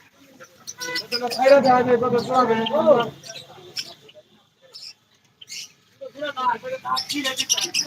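Birds chirp and chatter in a busy cluster at a bird and pigeon market, with short twittering calls rising and falling amid voices talking nearby.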